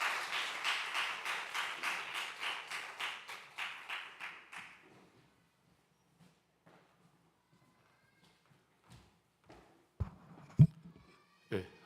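A church congregation at a Sunday youth worship service claps in steady unison, about three claps a second for several seconds, then fades to near silence broken by a few scattered thumps and taps.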